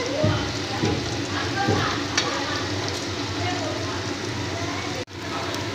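Mutton fat fritters sizzle in hot oil, a steady crackling fry with occasional sharper spits and light stirring, briefly dipping near the end.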